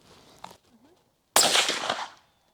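A single loud, sharp shot from a Los .308 carbine fitted with a Reva 2 suppressor cracks out after a faint quiet stretch, its blast decaying over about a second.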